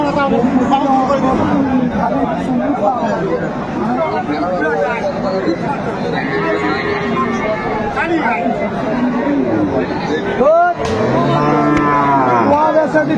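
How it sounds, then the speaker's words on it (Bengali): Cows and calves low repeatedly at a busy rural cattle market at Aftabganj, the bellows rising over a constant babble of crowd chatter, with one loud, close moo near the end. "একটা গাভী বাছুর আমরা দেখছিলাম।"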